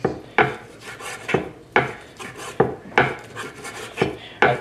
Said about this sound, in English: I think it's time to sharpen my knife.